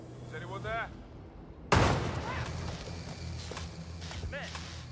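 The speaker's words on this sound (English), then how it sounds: "We got gunshots." A sharp gunshot blast in the video game Hitman 3 cuts in abruptly and rings out with a decaying tail, while radio-style voices talk before and after it.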